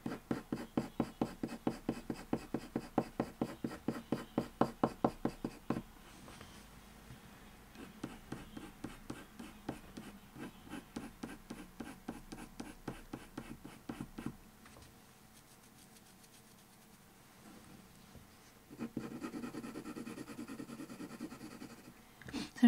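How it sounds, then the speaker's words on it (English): Colored pencil drawing lion fur on paper: quick rhythmic scratchy strokes in a fast regular series, then lighter scattered scribbling and a denser burst of scratching near the end, close and quiet. "lifting the pressure off the pencil as you come towards the end of the fur stroke"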